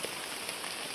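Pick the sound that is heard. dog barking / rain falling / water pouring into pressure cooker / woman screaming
rain falling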